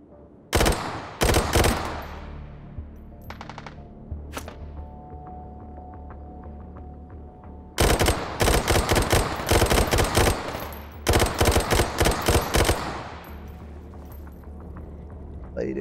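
Suppressing fire in the VR shooter H3VR: loud bursts of rapid automatic gunfire come in three long strings separated by brief gaps with a few single shots, close and sharp, heard without talk.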